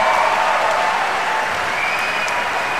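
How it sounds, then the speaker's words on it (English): Loud crowd applause from a political dinner audience greeting a city mayor and former governor, a steady dense wash of clapping sustained for nearly three seconds without speech. "Give Doug Wilder a big round of applause."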